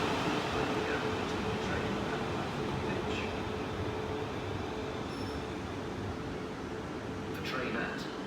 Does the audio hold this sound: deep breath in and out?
no